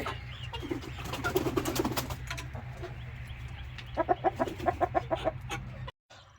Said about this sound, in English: 9 pullets trying to join the flock.